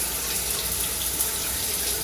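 Freshly installed Delta In2ition shower head running water, a steady, dense hiss of spray that continues evenly throughout, close and fairly loud.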